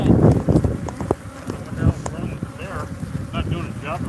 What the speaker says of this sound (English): Covered in killer bees.